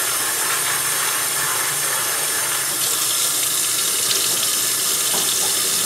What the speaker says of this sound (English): And I'll fill it up with water again.